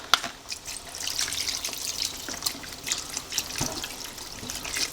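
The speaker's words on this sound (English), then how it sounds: "We're going to add our vegetable broth." Vegetable broth pours from a carton into a soup pot of cooked vegetables as a continuous gurgling splash of liquid, close and moderately loud, with irregular glugs from the carton.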